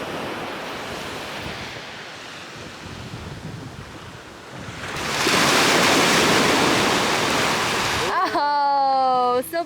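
Surf breaks on a beach on a rainy day, a broad continuous wash that swells louder midway as a bigger wave rolls in, with wind buffeting the microphone and a brief voice near the end.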